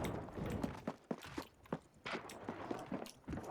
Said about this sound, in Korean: 어 발소리 들린다.